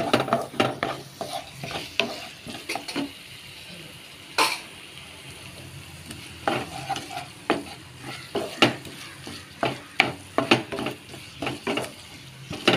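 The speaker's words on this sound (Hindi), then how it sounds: "होय बरो करून मिक्स करपाचो।" Crab sukka being stirred in a pan with turmeric, chili powder and garam masala, giving close scraping and stirring strokes in an irregular rhythm over a faint sizzle, with no talk.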